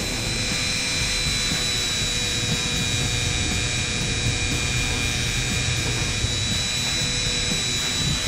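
A Dremel rotary tool cleans up painted white lettering on a tire with a continuous high-pitched whine and a grinding rumble underneath, steady and close throughout with no speech.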